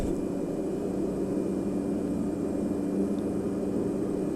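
A small bush plane's engine runs up to full takeoff power, giving a constant, loud, droning roar heavy in low tones with a steady propeller hum, with no speech over it.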